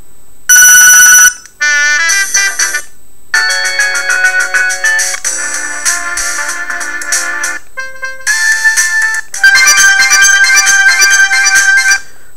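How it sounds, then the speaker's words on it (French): Melodic ringtone from a big-button Mobiho Essentiel Classic Plus mobile phone, several short tunes played one after another at changing loudness, loud and close with brief pauses between them. "Et dans les réglages du téléphone, nous avons par exemple le volume de la sonnerie et les mélodies de la sonnerie."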